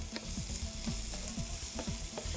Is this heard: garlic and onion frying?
yes